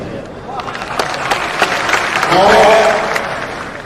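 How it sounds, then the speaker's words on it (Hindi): Audience applause in a hall at a state-level party workshop in Patna, a crowd clapping that swells to a peak and fades, with a speaker's voice over it. "जोरदार ताली बजाइए"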